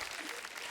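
Studio audience applause on a TV comedy talk show, a steady dense wash of clapping that continues throughout without a break.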